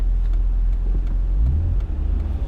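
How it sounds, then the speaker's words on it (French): A 1990 BMW 520i E34 with a 24-valve M50B20 six-cylinder engine idles with a deep, steady low rumble, running continuously and close by, with slight swells in pitch as it revs gently. "au niveau moteur, on a le bruit caractéristique du 6 cylindres"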